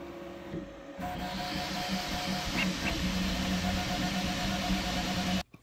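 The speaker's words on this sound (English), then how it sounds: "the printer picked back up right where it left off" An Infimech TX 3D printer resumes printing after a filament spool swap, its motors whirring and buzzing steadily with fan hiss and rhythmic stepper tones, fairly close and uninterrupted, then stopping abruptly.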